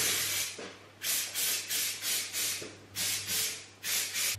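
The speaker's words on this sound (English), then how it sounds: "So I'm just spraying from underneath and all around." Repeated short hissing bursts of hairspray sprayed onto hair from underneath and all around, about eight of them in an uneven rhythm, close up with a low steady hum underneath.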